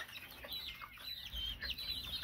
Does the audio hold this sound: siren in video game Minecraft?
no